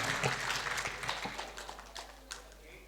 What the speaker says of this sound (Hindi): आप ज़ोरदार तालियों से इस्तकबाल करके बताएं कि आप महफिल उसी तरह सुन रहे हैं।